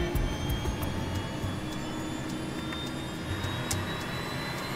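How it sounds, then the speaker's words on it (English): Aircraft jet engines throttling up, heard from inside the cockpit during a test flight recreating iced engine sensors, a loud steady roar with a high whine and no talk. "he records the sound of the engines from inside the cockpit. Keep throttling up"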